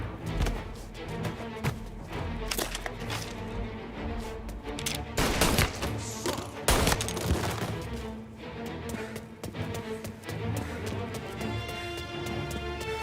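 Heavy gunfire in Mafia: Definitive Edition, a sustained shootout with dense volleys of close shots and sharp cracks rising and falling across several seconds.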